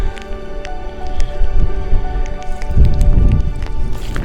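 Rain beginning to fall on a fell walk over the Dodds in the Lake District's Eastern Fells, a light patter of drops over steady wind rumble and close handling noise.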